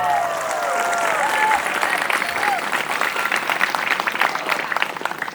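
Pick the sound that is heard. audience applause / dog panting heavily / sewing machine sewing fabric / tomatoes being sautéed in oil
audience applause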